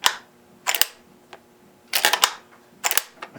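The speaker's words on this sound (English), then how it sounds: "Let's pull back the bolt. You hear that?" The bolt of an FN Herstal SLP Mk1 shotgun is racked several times: sharp, loud metallic clacks come in close pairs and triplets, with a single lighter click and quiet gaps between them.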